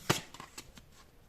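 Tarot cards get a quick riffle shuffle up close, one crisp burst followed by a few soft flicks and slides as the deck settles, with no voices.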